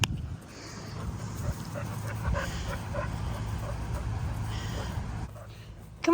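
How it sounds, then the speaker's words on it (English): A pit bull whimpers and yips softly at close range over a steady low rumble of background noise, with brief faint voices in the mix. "That's the big bad pit bull right there"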